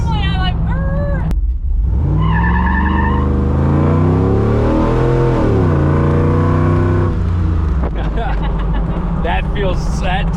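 An LS-swapped Jeep Wrangler accelerates hard with tires spinning, a loud close engine roar rising and falling in pitch, with talk before and after.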